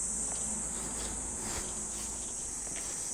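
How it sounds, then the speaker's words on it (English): Cicadas near a temple in Niigata, Japan, on a July day make a steady, high, hissing drone that holds evenly from start to finish, with faint scattered sounds beneath it. "You can hear the cicadas starting to wake up"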